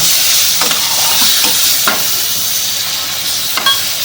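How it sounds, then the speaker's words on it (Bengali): Spices frying in a pan with a splash of water while being stirred for a spicy coconut chicken curry, a loud constant sizzle with periodic scraping strokes of the spoon, close and without talk. "এই মশলাগুলোকে অল্প একটু জল দিয়ে নেড়ে নেব, কষিয়ে নেব ঠিকঠাক।"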